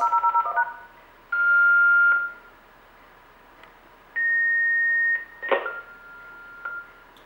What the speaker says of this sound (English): So there will be a few more beeps.